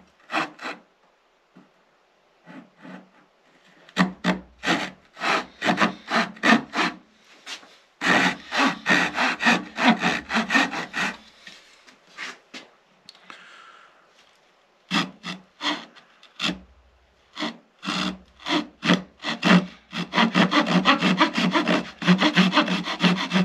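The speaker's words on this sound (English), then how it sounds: "The first thing I will do though is make a pre-cut to mark the edges." A table saw cuts into a wood blank for a cigar box guitar, making a pre-cut to mark the edges before dado work: repeated loud, rasping bursts of blade on wood, short passes separated by brief pauses, close to the microphone.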